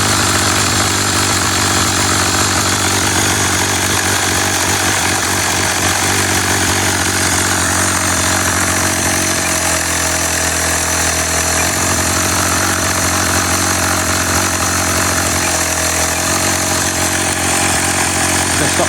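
A retro Raptor 30 model glow engine is cranked by an electric starter and struggles to fire, a loud steady whirring drone with brief changes in tone, close, with no talk.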